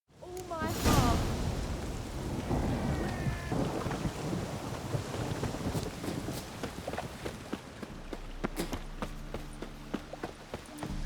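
Steady rainfall in The Witcher 3 with rumbling thunder at the start, then rain continuing under scattered footsteps and clopping sounds, fairly close and moderately loud.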